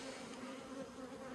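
Honey bees buzzing at an open beehive, a soft continuous drone with a steady tone and no voices, heard for only a moment.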